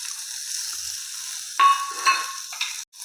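Chopped onion and whole cumin fry in refined oil in a frying pan, giving a soft, steady sizzle broken by a few brief stirring scrapes.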